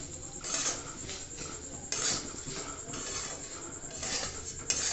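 Puffed rice is stirred in a pan over a low gas flame, giving a few drawn-out scraping, rustling strokes of the spoon against the metal at a steady pace, close by and with no voices.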